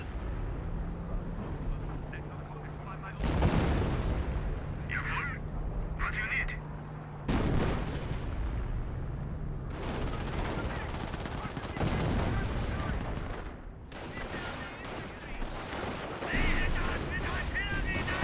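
Gunfire and shelling from the World War II strategy game Company of Heroes, with repeated sharp bursts and heavy impacts scattered across the battle, loud at times and partly under a commentator's talk.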